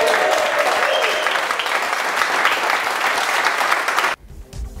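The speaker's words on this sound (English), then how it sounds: "Let's hear one last round of applause for all three acts." Audience applause for three performing acts at a Rising Stars talent contest, loud sustained clapping for about four seconds that cuts off abruptly, leaving quiet room sound.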